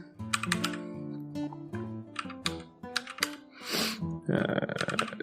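Fast bursts of keystrokes on a computer keyboard, close and crisp, with several rapid clusters of clicks and a louder clattering run near the end; a voice is also briefly present.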